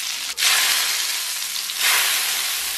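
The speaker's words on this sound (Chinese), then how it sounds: "然后咱们给上边来点辣椒粉，然后给上边泼点热油" Hot oil poured over chili powder and chives on top of braised noodles, a loud, steady hissing sizzle that swells again near the end.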